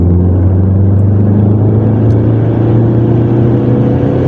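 Remapped car engine under load climbing uphill, a steady close, loud drone with a strong low hum and no clear rise in pitch over a few seconds.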